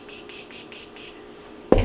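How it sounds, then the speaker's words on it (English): Morphe setting spray misted onto a makeup brush in several quick, close, soft hissing bursts, ending with a short thud. "I'm gonna wet it with the Morphe setting spray"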